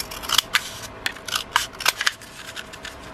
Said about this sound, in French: on vient découper donc de chaque côté pour enlever donc la partie du centre